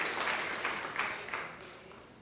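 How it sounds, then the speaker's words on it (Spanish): A church congregation claps in a steady, moderately loud burst of applause that gradually fades toward the end, with no talk over it. "aplauso para ustedes"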